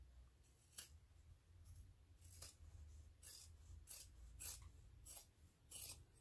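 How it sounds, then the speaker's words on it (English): Scissors trim the fabric seam allowance close to the stitching on a crossover clutch bag, giving about eight crisp, quiet snips at an uneven pace, close by, with no talking. "I'm going to trim my seam allowance, and I trim it down to about 1/8 of an inch away from the stitching"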